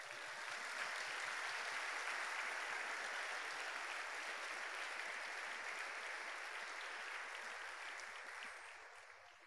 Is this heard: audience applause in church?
yes